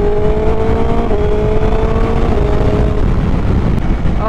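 Motorcycle fitted with an aftermarket exhaust revving around 5,000 RPM, a loud, close, sustained engine roar with a steady droning tone that eases slightly as it holds.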